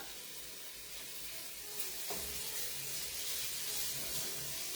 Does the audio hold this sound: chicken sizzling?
yes